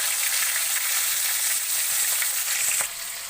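Mrigal fish pieces fry in oil, a close, even crackling sizzle with light spatter ticks and a faint stir, steady and without voices before easing slightly at the end.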